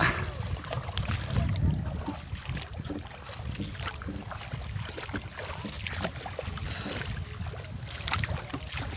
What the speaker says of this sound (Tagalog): Nag binamatak na ni Yakok TV at saka ni Chef Sud ang ano, bangka